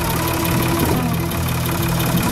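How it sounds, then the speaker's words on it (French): A farm tractor's engine runs close and loud, with a steady low, throbbing drone and a slight knocking rhythm throughout. No one speaks over it. "Hey Mich, tu fais gaffe, il va se lever le tracteur."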